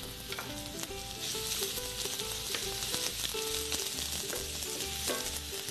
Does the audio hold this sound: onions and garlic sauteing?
yes